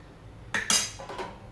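A metal spoon stirs chicken curry with tomato in a pot, making two close clanks against the metal followed by softer scraping, near and brief.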